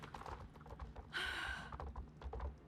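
Horse hooves clip-clopping in a video game, a rapid run of soft, close clopping beats with a short bright burst of game sound partway through, fairly quiet overall.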